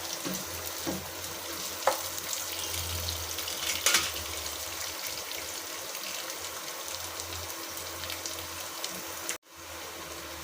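Chopped vegetables hit a hot pan of ginger-garlic paste and fry with a steady, close sizzle, with occasional stirring clatters and a brief louder splash before the sound cuts off near the end.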